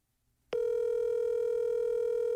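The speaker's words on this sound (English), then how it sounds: "Let's see if we can get Connor on the phone" A steady telephone dial tone starts abruptly after a short silence and holds at an even, loud level through the rest of the call attempt, with no voices over it.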